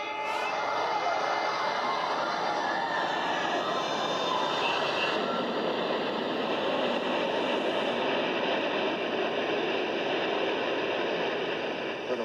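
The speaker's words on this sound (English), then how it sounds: "The North Tower came crashing down." The North Tower of the World Trade Center collapses in New York on 9/11, a loud, continuous roaring rumble that fills the whole stretch without a break.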